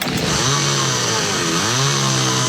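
A chainsaw runs steadily at close range, its engine note bending and dipping as the revs shift, loud and alone for a couple of seconds in a radio advert.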